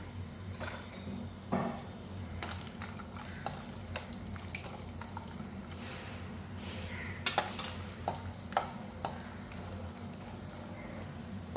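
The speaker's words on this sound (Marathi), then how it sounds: "यात आपण आता काजू परतून घेऊ." Cashews roast in a pan over a low, steady background hum. A few scattered clinks and soft scrapes of stirring come through, and there is no speech.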